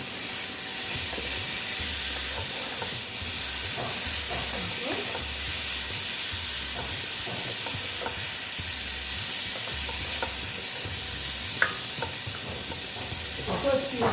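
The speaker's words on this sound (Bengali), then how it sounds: "সেই কফিগুলো দিয়ে এবার কষিয়ে নেবো আবার ভালো মতন" Cauliflower being fried down in a pan for a Bengali-style koi fish curry with potatoes gives a continuous sizzle and hiss with repeated stirring scrapes, close and steady, with no talk.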